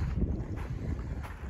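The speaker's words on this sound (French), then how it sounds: "Il y a beaucoup de vent, j'espère que ça va pas causer trop de problèmes par rapport au son" Strong wind buffets the microphone outdoors near Al Baïdha, 30 km from Medina, a steady low rumble with gusty swells throughout and no speech.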